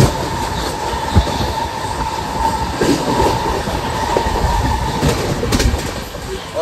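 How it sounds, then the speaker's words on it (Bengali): Sealdah Ajmer superfast express train running at full speed, heard from inside a carriage as a steady loud rumble with clattering wheels and occasional metallic squeals, no talk. "তো ট্রেন এখন ফুল স্পিডে চলছে"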